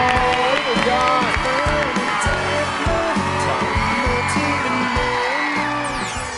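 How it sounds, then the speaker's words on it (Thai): TV dating show studio audience clapping and cheering continuously, a dense, busy wash of applause with whoops and a host's voice talking over it throughout. "ขอเสียงปรบมือกับคุณนิว"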